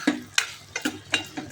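Mushroom curry masala with ground coconut sautéing in a pan, with soft sizzling and four evenly spaced stirring scrapes of a spoon against the pan, close and fairly quiet.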